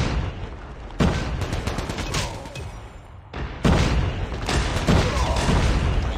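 Rapid gunfire bursts in a COD Mobile match, dense volleys starting abruptly and repeating after a brief lull, loud and close with overlapping shots and booms.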